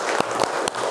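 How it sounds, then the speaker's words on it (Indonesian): Children in a classroom give a quick round of applause for a student. A few distinct claps ring out in a regular rhythm over a soft wash of general clapping. "Tepuk tangan untuk Zaki."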